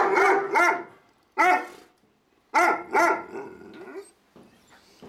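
A Bully Kutta female dog barks loudly and close by in several deep bursts of one to three barks, with short pauses between them and a softer grumble near the end.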